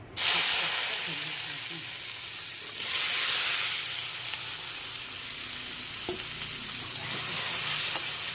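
Okra frying in hot oil with turmeric, a steady broadband sizzle with a few louder bursts as it is stirred, close and continuous throughout.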